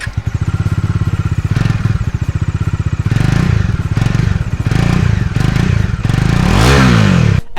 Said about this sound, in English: it is the masculine power of Dominar 400 which this twin barrel exhaust delivers